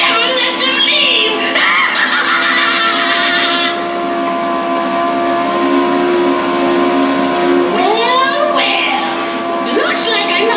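A plugged-in Gemmy life-size animated witch with a flaming cauldron runs with a steady, loud mechanical hum and whir, under the prop's own loud recorded cackling voice lines.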